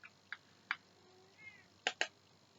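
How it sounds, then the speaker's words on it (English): A house cat meows to be let into a bedroom, several short close meows spread across a couple of seconds with quiet gaps between them, alone in a quiet room. "That's my cat thinking he needs in the bedroom."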